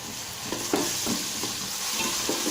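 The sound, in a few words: green chillies and ginger garlic paste sautéing with onions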